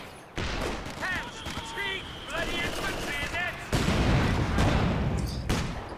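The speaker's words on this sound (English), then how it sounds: "second mortar barrage coming in, or it's just the auto fire here" Mortar barrage in a competitive tactical video game match: a rapid run of booming impacts and gunfire bursts, loud and continuous, with overlapping whistling tones and a heavier rumbling stretch toward the end.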